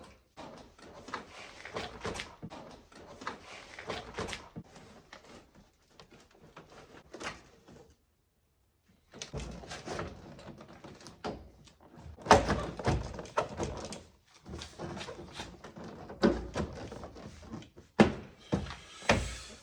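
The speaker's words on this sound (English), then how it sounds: "you put your door card back with a little bit of struggling" Plastic thumps, clicks and knocks as a truck's interior door card panel is pushed and fitted back onto the door, irregular handling sounds close by with a brief quiet gap midway, no talking.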